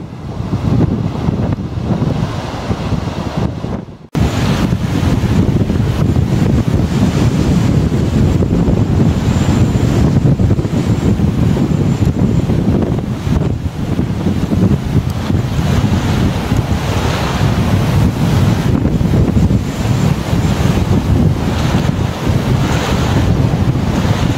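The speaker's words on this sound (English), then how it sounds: "This is what you call a gale force wind." Gale force storm wind roaring across Bray Lake, a loud continuous buffeting rush with wind noise battering the microphone and waves churning underneath for the whole stretch, briefly dropping out near the start.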